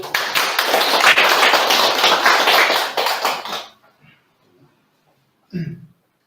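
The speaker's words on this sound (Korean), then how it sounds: "박수로." A crowd applauds steadily for a few seconds, the clapping fading out, followed by a brief quiet and a short thump.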